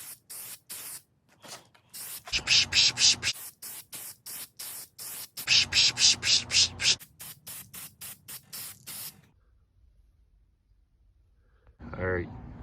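Repeated bursts of aerosol spray hiss, several long sprays separated by short pauses and quick taps, close to the microphone, while spray painting a Mustang rear diffuser.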